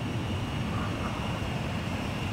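Fighter jet engines roar steadily in the combat flight game Ace Combat 5 as the aircraft closes on a refueling craft, a constant loud drone with no breaks and no voices over it.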